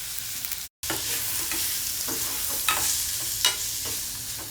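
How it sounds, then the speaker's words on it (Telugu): Crushed onions and ginger frying in oil with cumin and curry leaves, a dense steady hiss with a few stirring scrapes, briefly cut out near the start. "ఆ తర్వాత మనం క్రష్ చేసిన ఉల్లిపాయలు 2 వేసేసుకుందాం, అల్లం అన్నీ కలిపి."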